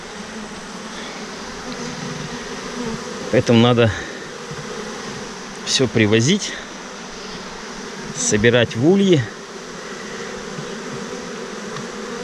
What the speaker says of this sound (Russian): Недобрая пчела какая-то.